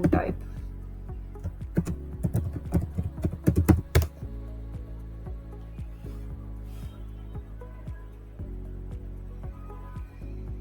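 Rapid computer keyboard typing clatters close by for about four seconds, then stops, leaving a steady, droning tonal hum for the rest of the clip.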